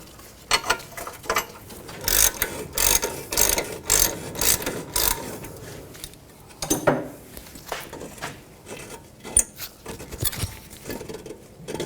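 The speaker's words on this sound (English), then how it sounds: "I'm going to use a wrench because this other bolt is in the way a little bit." Wrench ratcheting as brake bolts are loosened on a 2003-2008 Subaru Forester front brake, with a 17mm wrench; repeated clicking bursts in short rhythmic runs, close and fairly loud, no talk.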